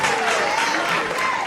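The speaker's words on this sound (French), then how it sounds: "on applaudit encore très très fort pour Braque" An audience applauds at a music talent show in Gabon, a dense, steady wash of clapping from a crowd, continuous and fairly loud throughout.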